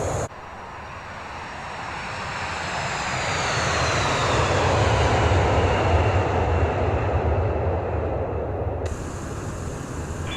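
Steady airliner jet engine roar from the X-Plane 11 flight simulator on a departure out of Seattle, a broad continuous rushing drone with a faint rising whine, loud and unbroken with no talk.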